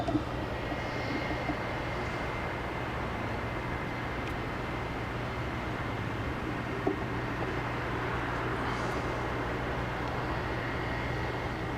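Republic Airways Embraer E175 LR regional jet, United Express, arriving at Washington Dulles: a continuous broadband engine roar with a steady whine, moderately loud and distant, heard alone.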